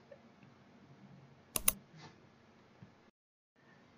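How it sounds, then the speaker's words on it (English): A computer mouse gives a quick double click, close and fairly loud, against a faint room background. A softer tick follows a moment later. "you select one process and click here"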